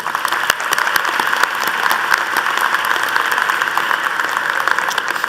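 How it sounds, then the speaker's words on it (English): Sustained, dense applause from a commencement ceremony audience for the keynote speaker, loud and even from start to finish with no voices over it. "Please join me in giving one more round of applause to our keynote speaker,"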